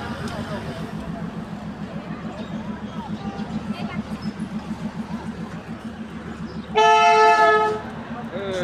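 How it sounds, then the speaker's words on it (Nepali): A diesel locomotive runs in reverse with a steady rhythmic clatter of wheels on rail, then a loud sustained horn blast sounds near the end; no one speaks. "डिजल इन्जिन ब्याक गियरमा चल्दैछ"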